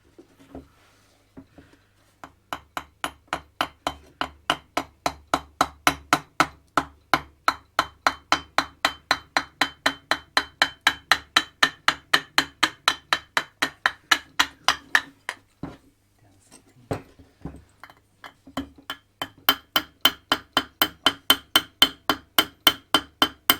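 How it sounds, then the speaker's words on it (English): Rapid, regular metal hammer blows struck close by, knocking the cylinder head off a Suzuki Choinori engine, a long run of evenly spaced hits with a short pause midway before hammering resumes. "let's hammer the head off"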